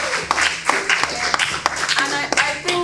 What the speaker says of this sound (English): No, please, a round of applause again